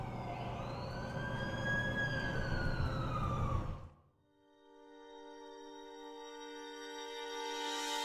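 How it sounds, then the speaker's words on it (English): An ambulance siren in the Amazing Spider-Man 2 video game wails loudly with a rising and falling tone, then cuts out abruptly and gives way to a sustained synthesized tone that slowly swells. "That's the ambulance I called."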